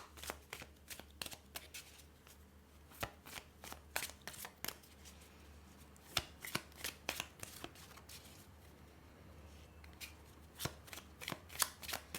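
Tarot cards are shuffled at close range for a reading, a long run of crisp riffling flutters and sharp slaps repeating in irregular bursts over a quiet background.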